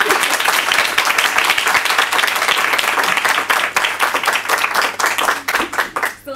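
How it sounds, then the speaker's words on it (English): Loud, sustained applause from a showcase audience cheering student book artists, dense overlapping claps that thin toward the end into a few scattered, distinct hand claps. "Let's just have another round of applause for all of our student artists."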